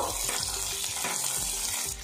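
Chopped garlic, onion and green chili fry in hot oil in a pan, giving a steady, close, dense sizzle that keeps going throughout with no talking.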